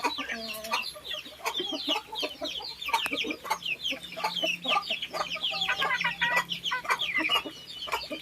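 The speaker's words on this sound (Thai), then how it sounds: "ไก่กำลังกินห้ำกินข้าวเปลี่ยน" Native chickens clucking and chattering while eating feed in their coop, many overlapping close calls in a busy, continuous flock murmur.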